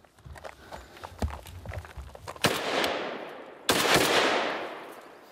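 Single shots from a used military-grade firearm, sharp cracks spaced irregularly at first, then two much louder close reports, each ringing out in a long echoing tail.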